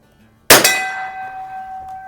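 A .22 rifle shot strikes a steel bell target at the range, giving one sharp, loud metallic clang that rings on with a steady, slowly fading tone of about a second and a half.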